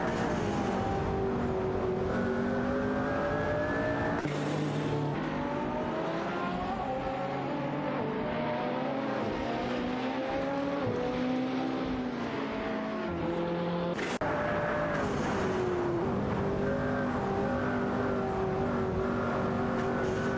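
Engines of a Ferrari and a Pagani Zonda roar through an AI racing video game race, high revving whines rising and falling through gear shifts, loud and continuous, with a sharp cut where one car's sound gives way to another.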